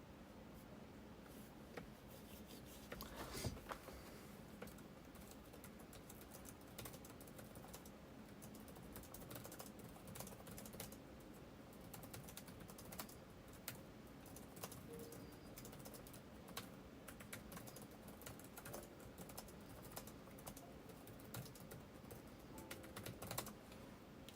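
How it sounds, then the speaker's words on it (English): Soft, rapid keyboard typing clatters steadily for a long stretch, with occasional louder key strikes and a faint background. "Do you hear me tippity typing?"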